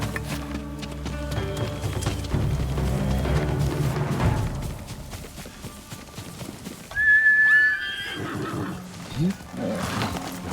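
In a Ghost of Tsushima game scene, a horse gives a loud whinny partway through, with hoof clip-clop and music running beneath and voices speaking around it.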